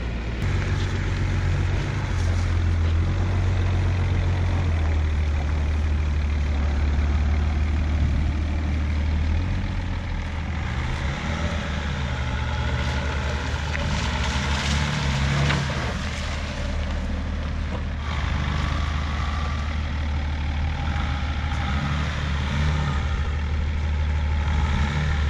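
A farm tractor idles with a deep, steady low rumble throughout, holding a constant drone at moderate distance with faint background clatter and no speech.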